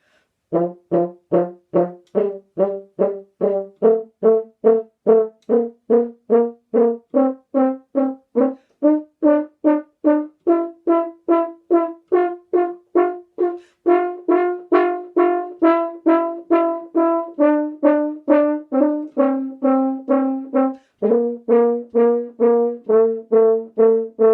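A French horn plays a long rising and falling run of short, detached staccato notes in a steady quick pulse, each attack crisp and separated by small gaps.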